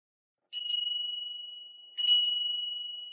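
A chime from an SMS-controlled OLED display rings out twice on receiving a text message, each a bright, clear bell-like ding that rings on and slowly decays, the second sounding about a second and a half after the first.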